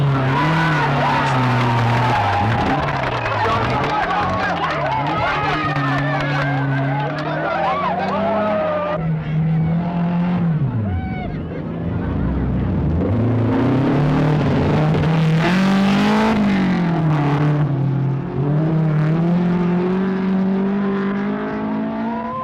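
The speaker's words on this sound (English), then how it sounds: "The Opel of German rally champion Walter Rohl" An Opel rally car races in the East African Safari Rally, its engine revving and droning continuously with rising and falling pitch through gear changes. A voice talks over it throughout.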